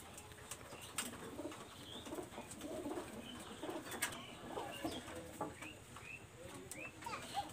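Red-eyed pigeons give soft, low coos, faint and somewhat distant under steady background noise, with occasional sharp clicks and rustles scattered through.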